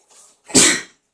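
A single sharp sneeze, preceded by a brief quiet inhale, loud and close.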